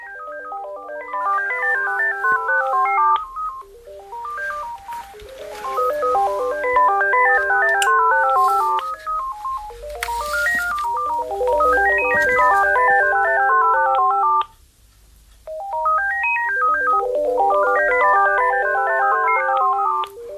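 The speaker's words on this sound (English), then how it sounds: "I'll get the other cordless phones and I'll show you what I mean" Several cordless phones ring at once with electronic melodic ringtones in overlapping, repeating bursts, loud and close, with a short pause before the tones resume.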